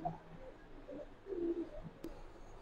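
Pigeons at a pigeon farm coo softly in a few low, throaty calls, faint and slightly distant against a quiet background, with one brief sharp click; no one speaks.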